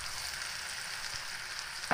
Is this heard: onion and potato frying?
yes